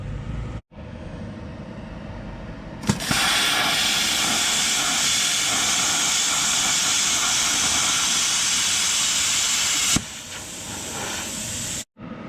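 An ESAB plasma cutter, set to about 31 amps, slices through a sheet of spring steel, giving a loud, steady roaring hiss for roughly seven seconds, framed by brief quieter stretches and sharp clicks as the arc starts and stops.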